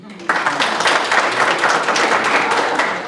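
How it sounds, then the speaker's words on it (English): Crowd at a student Malcolm X celebration breaks into applause for the COFO team, a sudden, strong burst of many hands clapping that starts sharply and stays full and even to the end. "And a big round of applause to COFO team."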